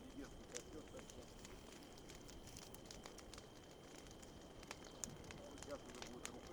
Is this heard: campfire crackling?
yes